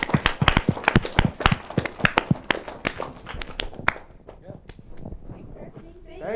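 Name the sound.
audience applause for the panel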